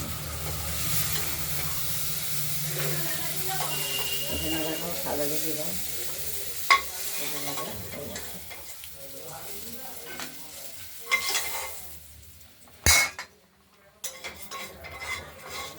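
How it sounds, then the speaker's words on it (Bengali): Cauliflower fries in a pan with a steady sizzle while a utensil scrapes and stirs it. A few sharp metal knocks come near the end as the frying fades. "কপি ভাজা হয়ে গেছে আমার এরকম লাল লাল করে ভাজা হয়ে"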